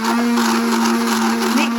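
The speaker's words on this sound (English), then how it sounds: "I'm whisking it with a blender" A household blender whisks cake batter with a loud, steady whirring motor drone and a strong constant hum throughout, close and continuous without pause.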